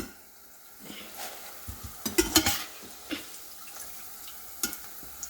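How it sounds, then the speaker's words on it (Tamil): Eggplant deep-frying in hot oil, a steady sizzling bubble with clattering stirs and scraping of a utensil in the pan, close and moderately loud, no speech. "இது பாருங்கள் கத்திரிக்காய் நல்லா பொறிஞ்சு வந்துட்டுது சிவப்பாக"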